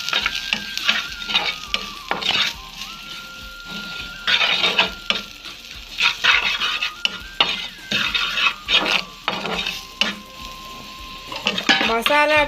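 Masala with chilli powder and salt sautéed in a pan for a vegetable cutlet, a spoon scraping and stirring in irregular bursts over a soft sizzle, with clinks of metal on the pan.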